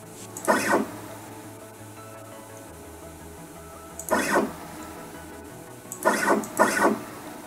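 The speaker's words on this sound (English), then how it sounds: "This is the y-axis stepper motor. Now I will send a G-code of 1 millimeter, and it should turn 1 revolution." The Y-axis stepper motor on a homemade CNC machine turns in three short bursts, each a brief close whirring buzz over a low steady hum, with quiet gaps between.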